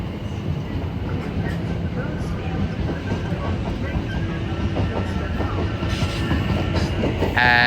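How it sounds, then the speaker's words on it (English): A Southern passenger train departs Clapham Junction for Littlehampton, its steady rumble and rail clatter filling the station at close range, rising slightly as it pulls away, with a brief brighter hiss near the end. "As the slightly delayed 1422 Southern service to Littlehampton departs."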